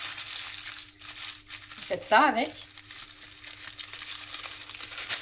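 Baking paper crumpled and scrunched by hand in a kitchen, a short burst of crinkling a couple of seconds long, close and clear, with someone speaking French around it.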